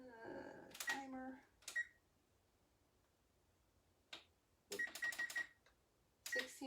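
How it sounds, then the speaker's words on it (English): A kitchen oven's timer gives short electronic beeps in scattered clusters, some single and some in quick runs, with quiet pauses between them. "Timer."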